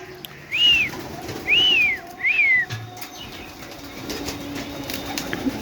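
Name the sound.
pigeons in a rooftop loft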